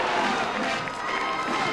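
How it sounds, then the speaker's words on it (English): A large street crowd at the Tournament of Roses Parade on Colorado Boulevard cheering and shouting, a dense continuous roar with no breaks. "The Trojan cheerleaders have really got the crowd going wild."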